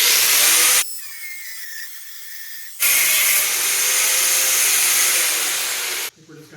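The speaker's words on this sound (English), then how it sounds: "We're just going to cut right down on an angle." A power tool cutting down through a metal bar at an angle while a 2x42 belt grinder is being modified: a loud, steady hissing whine in two bursts, with a quieter pause between them, then cutting off abruptly.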